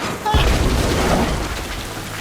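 A single muffled cannon boom from a pirate ship in Tales of Monkey Island lands near the start, then a rumbling tail fades out under a soft ambient wash.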